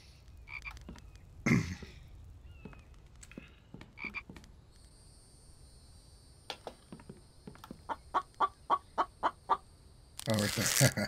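A chicken in the survival video game The Infected clucks in a quick run of sharp, evenly spaced calls near the end, after scattered faint clicks and short noisy bursts.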